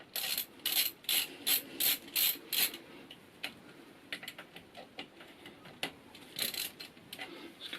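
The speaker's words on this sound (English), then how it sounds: "the cam chain tensioner is held on with two little bolts here, which I can remove." A small hand ratchet works the two cam chain tensioner bolts on a Suzuki SV650 engine, giving close bursts of rapid clicking with short pauses between, no talking.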